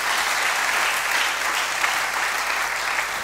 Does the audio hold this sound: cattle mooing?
no